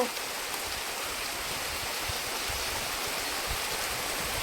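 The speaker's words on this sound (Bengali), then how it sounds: "খুব জোরে বৃষ্টি এসে গেছে" Heavy rain pours down in a steady, dense hiss, even and unbroken, with no one speaking over it.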